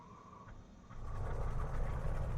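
An aircraft engine cranks on its starter with the fuel boost pump on, a steady mechanical drone that steps up about a second in and holds louder and rougher to the end.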